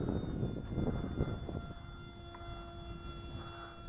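An Attop P01 Sky Soar 3-channel RC airplane flying at a distance, heard as a faint, steady electric motor whine over light outdoor rumble.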